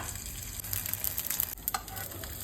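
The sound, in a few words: paneer shallow frying in a pan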